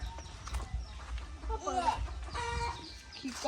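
Chickens cluck on a rural Isan backyard farm, short irregular calls close by, mixed with people talking and background noise throughout.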